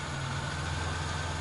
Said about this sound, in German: Also erstmal, Motor läuft jetzt sehr sauber